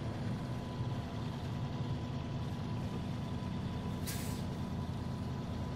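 A truck in the SnowRunner video game idles and drones with a low, steady engine rumble, then lets out one short, sharp air-brake hiss near the end.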